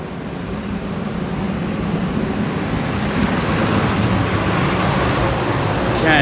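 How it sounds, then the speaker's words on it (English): A garbage truck passing on a Williamsburg street in Brooklyn on an evening, a loud continuous low engine rumble and road noise that swells slightly and holds steady throughout, with no clear talk. "it's hard to talk with the garbage truck"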